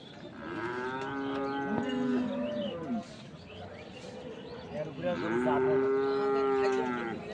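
Two long, deep moos from dairy cows at a livestock market in Dinajpur, Bangladesh, one early and one near the end, loud and close, with a quieter stretch of ambient noise between them.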